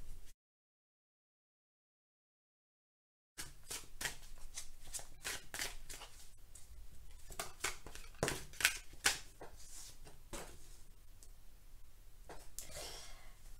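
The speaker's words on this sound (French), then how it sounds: "je bats les cartes et je prends uniquement celles qui sautent" Tarot cards riffled and shuffled by hand after a short silence, giving quick papery flutters and soft slaps in bursts, close and fairly quiet with a few breaths but no talking.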